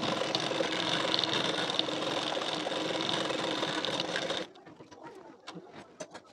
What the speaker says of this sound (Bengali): এইভাবে রেখে সেলাইটি দিয়ে নেব।